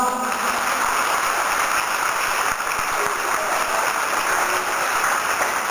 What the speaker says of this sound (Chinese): 我们大家给他们掌声好不好？